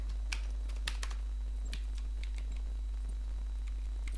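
Computer keyboard keys clatter in quick irregular bursts as CSS code is typed, close and clear over a faint steady electrical hum.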